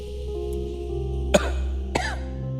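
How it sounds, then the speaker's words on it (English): Two sharp coughs from one person, the first loud and the second shorter about half a second later, heard over a steady low hum with no talking. "Cover your mouth when you cough."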